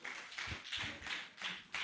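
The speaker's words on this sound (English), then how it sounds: "Let's encourage him with our clap until he climbs up the stage." Audience applause at a professional association's annual general meeting and scientific conference in Lagos, a short steady patter of many hands clapping at moderate volume, with no voices.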